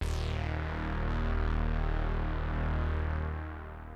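Synth sub bass run through the Decapitator distortion plugin sustains one gritty, harmonically thick note for four seconds, loud and upfront at first, then easing slightly toward the end with no voices.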